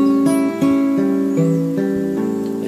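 Clean guitar picking out a chord pattern from a song, single plucked strings ringing into each other in a steady arpeggio, close and alone with no talk.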